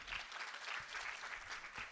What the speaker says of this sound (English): Another round of applause for the VC.